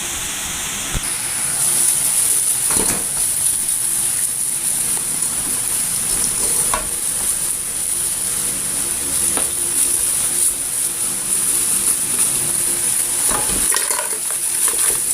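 Frozen watermelon rind cooking in a kettle with added seasoning, giving a continuous sizzling, hissing simmer with occasional faint clinks and stirring knocks, plus a steady high whine.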